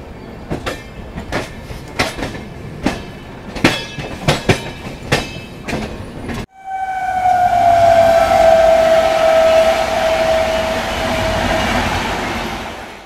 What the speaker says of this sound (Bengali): ক্যান্টনমেন্ট থেকে আমাদের ট্রেন রওনা দিল মুম্বাই সেন্ট্রালের পথে।